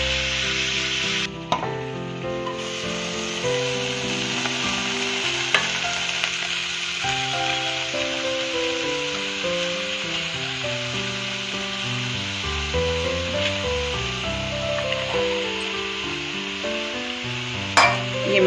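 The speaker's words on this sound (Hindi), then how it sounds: "हम इधर मेथी और मटर फ्राई कर लेते हैं, मतलब अच्छे से भून लेते हैं।" Fenugreek leaves and frozen peas roasting in a spoonful of ghee make a soft, continuous sizzle with faint stirring, sitting beneath louder background music throughout.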